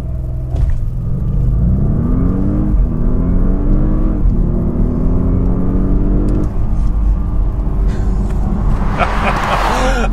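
A 2013 Audi S8 pulls hard from 0 to 60 mph, its engine rumbling loudly inside the cabin and rising in pitch through several gear shifts, with a louder burst of noise near the end.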